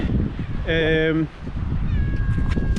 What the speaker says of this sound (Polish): tu jest dużo kotów na Cyprze